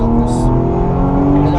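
A car drives on the Le Mans track during a driving lesson with cones, its engine a loud, steady, close drone as the driver gets back on the throttle.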